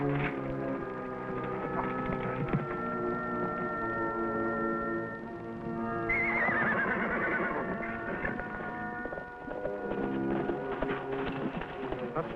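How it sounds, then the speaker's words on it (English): A horse whinnies and neighs with a long quavering call, with hooves clip-clopping and other animal sounds around it in an old colorized western scene. "We've been following the horse."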